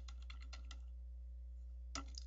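Typing on a computer keyboard while writing C++ code: a quick burst of several keystrokes, a pause, then another short cluster near the end, with a steady low hum underneath and no speech.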